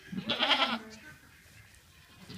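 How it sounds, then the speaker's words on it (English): A newborn baby goat gives a single close, clear bleat near the start, then falls quiet under faint room noise with a soft rustle at the end. "Look, it's the baby goat."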